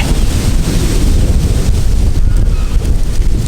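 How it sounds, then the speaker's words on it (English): Strong wind roars steadily and loudly against the microphone outdoors on a goat farm, a constant rumbling buffeting with no voices. "It is crazy windy."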